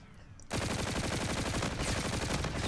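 X-Eon gun firing in Infinite Warfare, a rapid sustained automatic burst of loud, evenly spaced shots that starts abruptly after a brief quiet moment and runs without a break.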